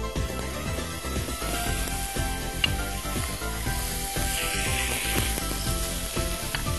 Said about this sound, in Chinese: 直接煎进去。